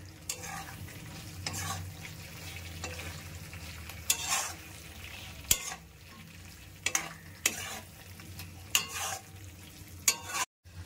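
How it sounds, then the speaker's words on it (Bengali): Pointed gourd sautéed in spiced oil for a vegetarian curry, a steady frying sizzle broken by repeated scraping strokes of a spatula against the pan, close and clear, with no voices. "এবারে আমি এর মধ্যে পটলগুলোকে দিয়ে দিচ্ছি। দিয়ে কষিয়ে নেবো ভালো করে।"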